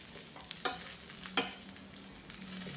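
Vegetable egg roll cooking in a pan over a medium flame, giving a steady low sizzle with a couple of sharp clinks from a utensil, close and alone.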